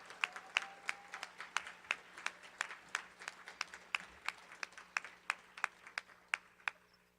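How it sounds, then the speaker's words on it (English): Audience applause at a church celebration honoring a bishop's 41 years of service and 60th birthday: steady clapping from a crowd, moderately loud and sustained, with sharp individual claps standing out throughout. "That deserves a round of applause."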